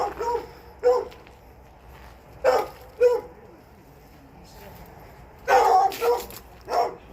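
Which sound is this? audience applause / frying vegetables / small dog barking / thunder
small dog barking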